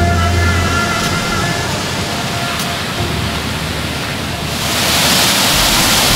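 Floodwater from a Carpathian river flood rushes under a village bridge and pounds against its supports, a loud, steady broadband roar that swells further near the end.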